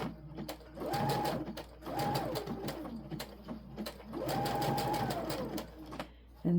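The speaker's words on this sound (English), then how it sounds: "I'm just going to sew to the side of the pocket." Sewing machine runs in short bursts of fast whirring stitches, pausing between runs while stitching the side of a pocket on crop pants; close and clear.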